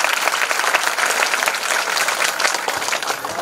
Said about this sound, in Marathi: टाळ्या वाजून स्वागत करा एकदा.